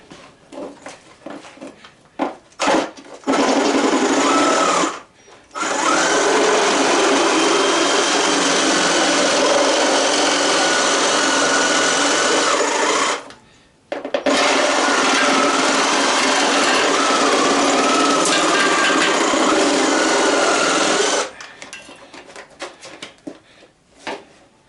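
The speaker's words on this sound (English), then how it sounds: "put in one of these blades that's pretty well wore just to cut this plastic" A worn saw blade cuts through plastic during removal of the motor from an old Husky, loud, steady buzzing runs in two long passes of about eight seconds each, split by brief pauses, with short bursts and quiet stretches before and after.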